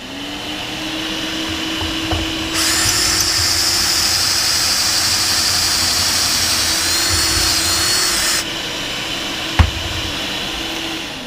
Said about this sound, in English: I got a drop right here for dust collection. Just come over here and hit the remote.